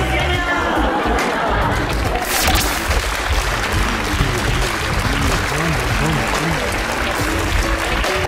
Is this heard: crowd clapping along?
yes